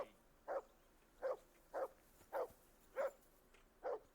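In a medieval video game, a dog barks six times at a steady rhythm of about one bark every half-second to second, moderately near and alone.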